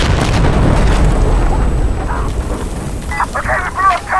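A loud explosion in the tactical shooter Insurgency Sandstorm fills the opening seconds with a heavy low-frequency boom and rumble, then tails off into debris and noise while players talk over it.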